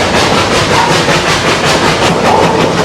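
Puffing Billy heritage steam train in Victoria, Australia, rolling steadily along its rails with a continuous loud rumble and wheel noise, a long passenger train passing close by, no talk heard.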